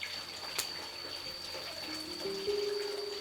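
A thin trickle of rice whisky distillate runs steadily from the tube of a village still in Laos, a soft continuous liquid flow with faint tonal ringing rising toward the end.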